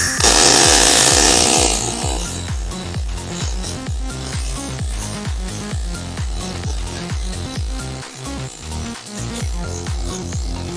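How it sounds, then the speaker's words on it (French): An EASYWELD MIG welder at 110 amps in short-circuit mode lays a simple bead. The loud, harsh crackling buzz comes close up in quick, regular pulses, with a brief hiss at the start and no talking. "petite soudure très simple, sans toucher au réglage du poste"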